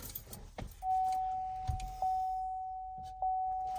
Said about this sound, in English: let's go ahead and turn the truck on.